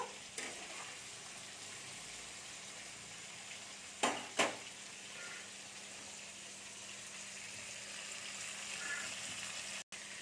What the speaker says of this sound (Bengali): ফুলকপিগুলো একটু লাল করে ভেজে নেব।